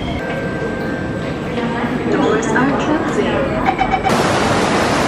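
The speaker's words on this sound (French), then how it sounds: "Il pleut à verse." Dense, steady hiss of heavy rain pouring down, growing a little louder with a sudden surge of noise near the end.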